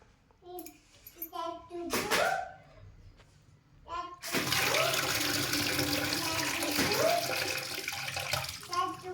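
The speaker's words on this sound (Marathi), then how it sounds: "किती डाळ पाणी निघते बघ बरं" Soaked urad dal is rinsed for idli batter. A few seconds of voices and small splashes come first, then a strong, continuous rush of running and sloshing water fills the rest.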